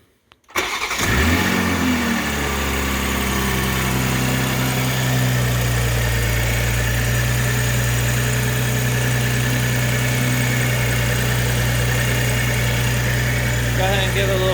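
A 2021 Toyota Supra fitted with an Injen cold air intake cranks and fires after a brief silence, then settles into a loud, steady idle with an even droning hum that carries on without pause.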